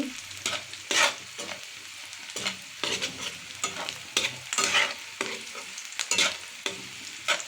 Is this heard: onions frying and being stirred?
yes